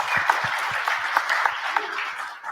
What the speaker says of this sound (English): A round of applause for Abdulrahman Zaki of Carbmina from Egypt